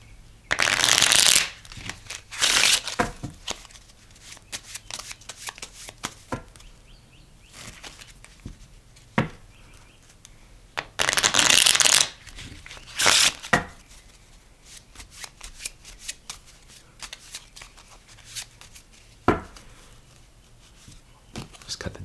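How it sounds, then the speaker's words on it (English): A deck of playing cards is riffled and shuffled repeatedly, with several loud fluttering bursts spaced through quieter handling, tapping and squaring of the deck, close to the listener. "let's go ahead and shuffle these cards real quick"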